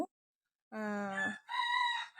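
A rooster crows loudly and close by in a winter-morning yard, hens still shut in their coop: one long harmonic crow after a brief silence, then a second higher, wavering call.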